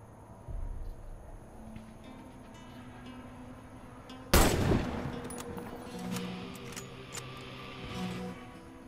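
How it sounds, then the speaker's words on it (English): Sniper rifle fire at targets in the online shooter game Warface, one loud sharp shot followed by a reverberant tail and fainter gunfire and game sounds, no talk. "Hit all the targets with your sniper."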